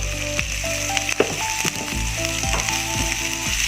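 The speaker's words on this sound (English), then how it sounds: "After couple minutes, I put the sliced almond." Sliced almonds fry in a pan for a Chinese sautéed chayote dish, giving a steady, loud, close sizzle with a few light clinks of a utensil.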